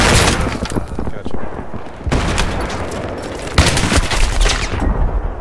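Loud, dense gunfire and grenade blasts from a team deathmatch round of Battlefield 3 on the Noshahr Canals map: nearly continuous rattling bursts and booms with brief gaps.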